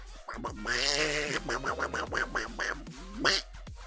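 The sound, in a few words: voice imitating Donald Duck quacking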